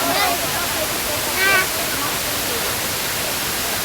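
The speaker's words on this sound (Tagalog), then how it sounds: "nandito na kami sa falls" The Hinulugang Taktak waterfall roars as a continuous dense rush of falling water, loud and close, with faint voices briefly audible beneath the torrent.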